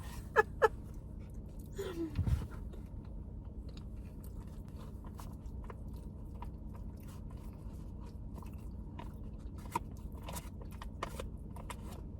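A hard sausage is bitten and chewed outdoors at a camp, with two sharp crunchy bites followed by a rough scrape, then faint scattered chewing clicks over a quiet background.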